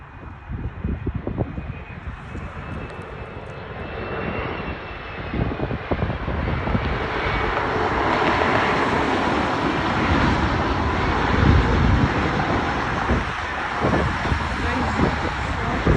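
A passenger airliner landing at Cleveland Hopkins airport, a steady engine roar building and lingering across the whole stretch, with wind buffeting the microphone and people talking nearby.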